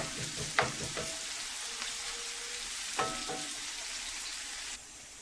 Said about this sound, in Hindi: प्याज अच्छी तरह से ब्राउन कर लिया।